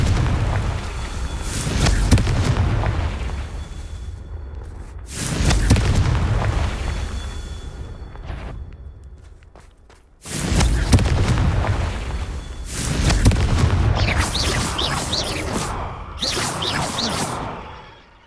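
Confringo fire-spell blasts in the Hogwarts Legacy video game: a series of loud booming explosions with rushing whooshes, several big bursts separated by brief lulls and rumbling decays.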